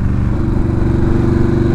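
A Yamaha Warrior 1700 motorcycle engine runs steadily at idle nearby, a loud, deep, throbbing rumble with an even rhythmic pulse and no voices.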